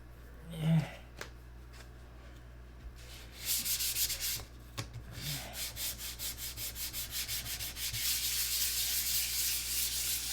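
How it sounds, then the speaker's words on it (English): Hand sanding on an airplane surface, a quiet rhythmic rasping that starts after a few faint knocks and settles into steady back-and-forth strokes, growing slightly louder toward the end. "this is like the 5th or 6th sand out of this airplane, and we'll keep sanding until I rub it raw, I guess"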